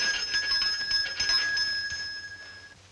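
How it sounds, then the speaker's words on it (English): A bell rings with a bright, sustained metallic tone that lingers steadily and then slowly fades, heard alone at moderate loudness. "Sounded like a bell coming from somewhere."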